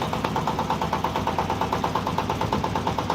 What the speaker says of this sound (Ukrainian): Ось, їде тракторець